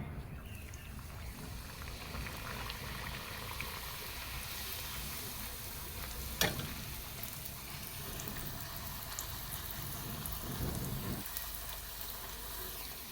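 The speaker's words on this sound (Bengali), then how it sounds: "তেল গরম হয়ে গেছে, এখন দিলাই আর ফুরি" Rainbow-coloured puris frying in hot oil, a continuous crackling sizzle that holds steady throughout, with one sharp click near the middle.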